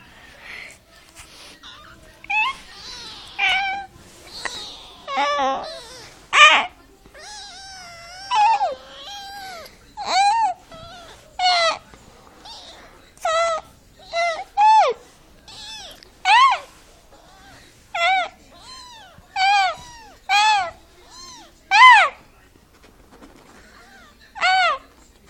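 A cat meows repeatedly in a series of clear, close calls, starting with softer mixed whines and settling into a steady rhythm of distinct meows about every second, with no talking.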